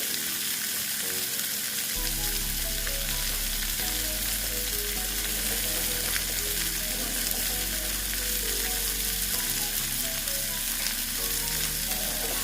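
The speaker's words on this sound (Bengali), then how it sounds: "রসুনটা একটু ভেজে নিচ্ছি আগে" Garlic sizzles in hot oil in a pan, a steady, dense frying crackle that continues without a break, close and moderately loud with no talking.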